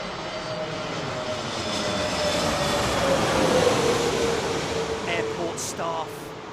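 An Airbus A320neo arriving at Heathrow passes with a swelling engine roar and a gliding tonal whine that peaks mid-way and then eases, with brief speech near the end.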